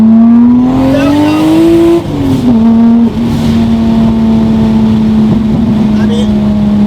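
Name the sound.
single turbo Toyota Supra accelerating in second gear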